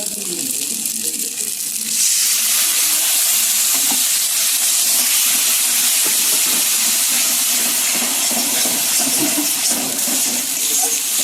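Masala frying in a little oil for a country chicken curry, with a splash of water added: a loud, steady sizzling hiss that swells sharply after a quieter start and then holds close and continuous.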